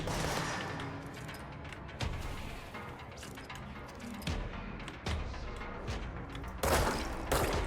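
Gunfire in the video game Control, repeated sharp shots and impacts in irregular bursts over a dense, noisy backdrop, loud and close.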